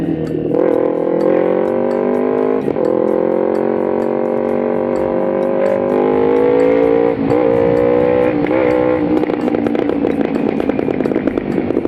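A carbureted Kawasaki Ninja 250 R with an aftermarket exhaust revs loudly and close for the whole stretch, its engine tone climbing and dipping in steady swells with a few sharp blips, and no voices over it.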